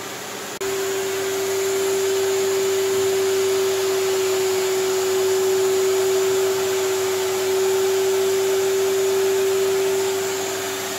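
A vacuum cleaner with a long hose switches on and runs as a loud, steady, unbroken motor whine and rush of air for about ten seconds, with nothing else heard over it.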